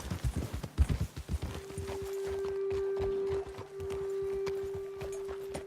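Horse hooves clip-clop at a steady walking pace in Red Dead Redemption 2. The close, rhythmic strikes last about two seconds, then give way to a sustained steady tone with faint background ambience.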